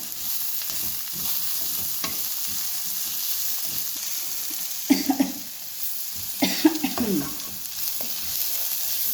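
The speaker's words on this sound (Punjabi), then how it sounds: "ਹੁਣ ਅਸੀਂ 2 ਮਿੰਟ ਇਹਨੂੰ ਹੋਰ ਭੁੰਨ ਲਾਂਗੇ ਵਿੱਚ ਮਸਾਲਾ ਢਿੰਡੀ 'ਚ ਵੀ ਆਪਣਾ ਰਲ ਜਾਊਗਾ" Okra (bhindi) roasting with masala in a pan keeps up a soft, continuous sizzle, broken by a few close scraping stirs of a spoon against the pan.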